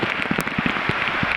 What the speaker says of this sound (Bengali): দেখেন কি পরিমাণে বৃষ্টি হচ্ছে।